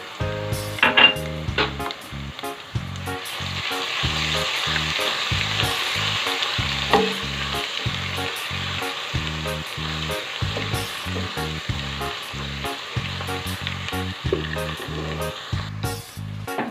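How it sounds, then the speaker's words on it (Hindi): Garlic sizzles in a pan of lightly browned onions, frying for a bean-and-eggplant bharta: a steady loud crackling hiss runs throughout, with stirring scrapes and occasional clinks of the spoon against the pan. "अब मैं इसमें लहसुन डाल दूंगी।"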